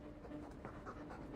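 A dog in Dragon Age 2 pants quietly and rhythmically with quick, soft breaths, low in level against a muffled game background.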